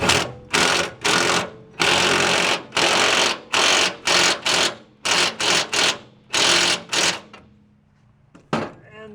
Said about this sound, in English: Use my good old Ryobi, tighten that up.